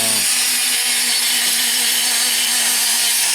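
High-pitched rotary grinder whine cutting into a wood carving to shape a muskrat's toes; loud, close and continuous, with a steady tone throughout.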